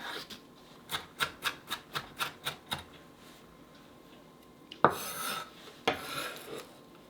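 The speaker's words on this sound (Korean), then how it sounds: "파를 잘게 다질게요" A knife minces green onions rapidly on a cutting board, about eight quick even taps, then a pause and a couple of louder scraping knocks.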